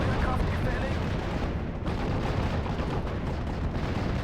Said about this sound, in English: Looks like mortar coming in on top of my IG though.